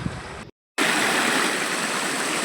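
Near a hillside Anjaneyar temple, water rushes past in a steady, loud stream-like roar that briefly cuts out before continuing unbroken, with no talking.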